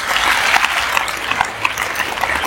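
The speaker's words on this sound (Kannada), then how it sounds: "ಅವ್ರ ಅಪ್ಪಗೊಂದ್ಸರಿ ಜೋರಾಗಿ ಚಪ್ಪಾಳೆ ಹೊಡಿಬೇಕು." Loud, dense applause from an audience at a motivational event, sustained clapping with sharp individual claps standing out over the wash.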